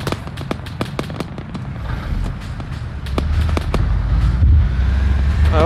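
Rapid sharp gunshots crack through a dense jungle firefight in a Grenada war video game set during Operation Urgent Fury, with a USMC grenadier in the fight, over a rumbling backdrop that swells louder midway.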